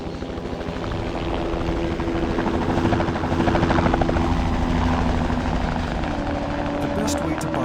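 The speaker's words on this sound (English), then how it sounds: "The best way to Baimuru is by chopper." Helicopter flying with a steady, loud rotor drone and engine whine, swelling slightly in the middle, with voices speaking over it.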